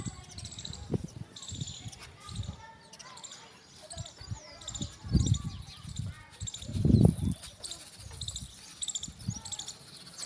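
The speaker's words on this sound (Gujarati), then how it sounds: "ચકલા જો વાટ જોઈ રહ્યા છે સૈનની અત્યારમાં" Sparrows on a rooftop terrace in the early morning, waiting for feed, give scattered thin, high chirps under low thumps, footsteps and occasional voices.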